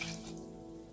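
Hot water pours steadily into a pot of chicken noodle soup made with chicken broth, a brief, soft, continuous splashing stream heard alone.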